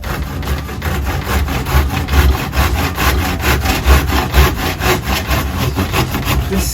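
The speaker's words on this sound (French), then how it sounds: "on va terminer la scie à main, hein, évidemment." Hand saw cutting through wood while building a 45° cutting jig, with steady, regular back-and-forth strokes about twice a second, loud and close with no talking.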